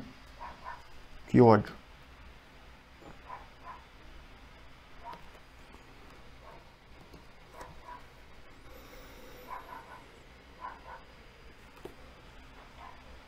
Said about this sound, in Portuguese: essa cachorra da vizinha